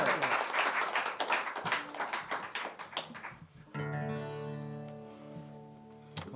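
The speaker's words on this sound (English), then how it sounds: "Let's have a warm round of applause for Kevin Dooley and Oliver Jacobson" An audience at a small performance circle claps to welcome two musicians, a burst of uneven handclaps that thins out and gives way to sustained tonal notes from an instrument.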